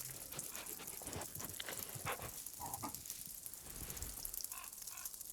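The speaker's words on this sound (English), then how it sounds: "if we're outside, we can go pet the dog" Dog sounds in the video game Lorelei and the Laser Eyes, a few short barks and caw-like yelps over a faint ambient outdoor background, with no talk.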